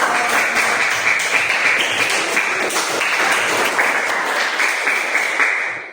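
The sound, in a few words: audience applauding the group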